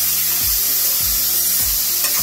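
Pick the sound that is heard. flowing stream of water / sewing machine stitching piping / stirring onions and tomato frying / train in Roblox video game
stirring onions and tomato frying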